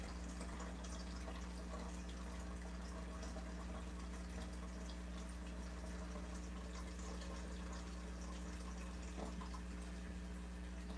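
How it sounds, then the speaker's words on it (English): A kitchen tap runs cold water into a cooking pot for boiling, filling about a gallon, giving a steady, even rushing hiss that holds unbroken throughout with no voices. "Cold water is fine."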